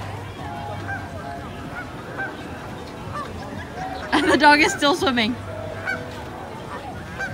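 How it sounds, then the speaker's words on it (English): Geese honk loudly in a short, harsh burst as a swimming dog chases them outdoors at a campsite. A voice talks before and after the honking. "The dog is chasing the geese."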